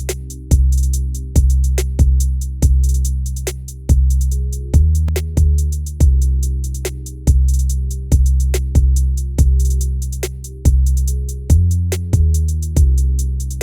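Programmed drums from Logic Pro X play a loud, close groove: a steady 16th-note hi-hat pattern with accented hits over repeating kick and snare strokes, evenly spaced with no voices.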